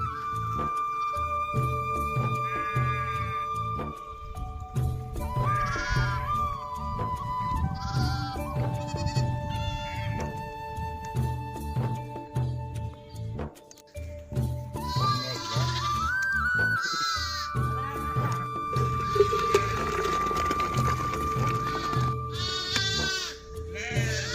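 A flock of sheep and goats grazing around a pond among crop fields in Makkuva mandal, with repeated bleats from several animals, some near and some farther off, over a steady outdoor background.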